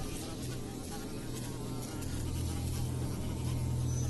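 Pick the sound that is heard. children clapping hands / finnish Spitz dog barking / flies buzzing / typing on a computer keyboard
flies buzzing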